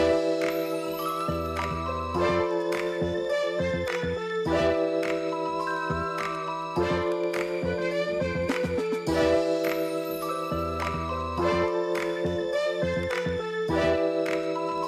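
A looped soul sample processed with the Cymatics Origin plugin plays continuously with warm, slightly gritty saturation, layered chords and a steady repeating groove at moderate volume.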